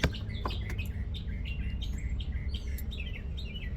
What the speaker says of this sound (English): the birds are going off